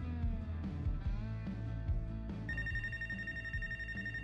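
A telephone rings in the video game Life Is Strange: True Colors, a steady electronic ring entering midway over game music.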